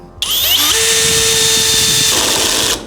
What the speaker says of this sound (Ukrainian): виставляємо режим закручування саморізів, муфту на одиничку і погнали